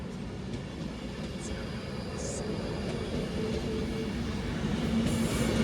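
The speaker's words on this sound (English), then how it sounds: "now heading off to London Euston." A train pulls out of Stoke-on-Trent bound for London Euston, a low steady rumble that grows slightly as it gets under way, with faint high squeals and no talk.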